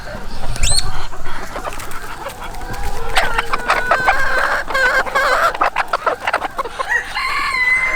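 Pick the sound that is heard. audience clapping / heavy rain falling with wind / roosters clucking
roosters clucking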